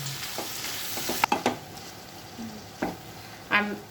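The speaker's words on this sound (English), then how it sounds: "I'm adding the boiled vegetables, and I'm going to saute it for some time in butter." Boiled vegetables sauté in butter with a soft continuous sizzle, punctuated by a few distinct scrapes and knocks of a spoon against the pan, close-up with no speech.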